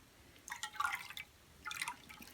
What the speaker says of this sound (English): we will add the lye mixture to the oil